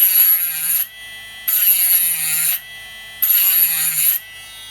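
Three evenly spaced bursts of a shrill rotary grinder cutting into an Anker 65W charger shell, each about a second long, close up, with the motor spinning more quietly between cuts.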